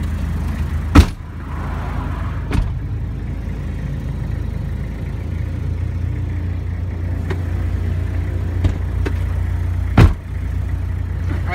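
A car with a newly installed engine on a test drive, with a steady mid-pitched engine drone and low road rumble throughout and a few sharp thumps and knocks from bumps along the way.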